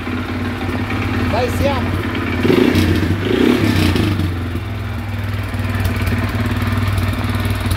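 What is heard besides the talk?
Dinli 801 350cc ATV engine running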